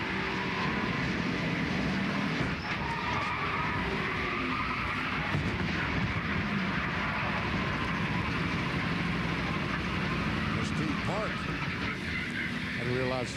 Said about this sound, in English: now we go on board with Michael Waltrip